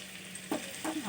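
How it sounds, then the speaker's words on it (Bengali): Potatoes fry in hot oil in a wok with a steady, soft hiss, with a couple of brief louder stirring scrapes near the end. "কড়াইতে তেল গরম করে আলুগুলো একটু ভেজে নিচ্ছি"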